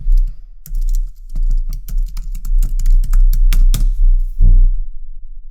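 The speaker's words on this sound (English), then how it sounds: "enter the password and hit enter" A password being typed on a computer keyboard to connect to a server over SSH: a fast, close run of crisp key clicks, then a short pause and one firmer keystroke for Enter.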